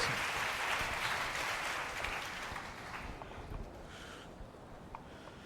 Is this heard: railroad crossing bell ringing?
no